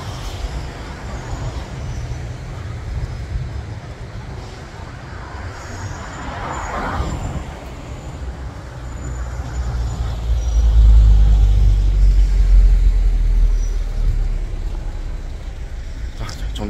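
Traffic rumbles on a street as a city bus pulls up to a stop. A heavy low engine swell builds and lingers and there is a brief hiss, with voices faintly beneath.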